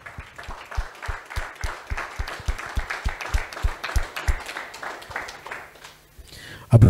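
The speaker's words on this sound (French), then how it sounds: "Je voudrais qu'on fasse un tonnerre d'applaudissements pour Martin-Olivier Guiamba." Audience in a Cameroonian talk-show studio claps for an arriving panel guest, a steady, fairly loud round of applause that fades toward the end before a sharp close thump.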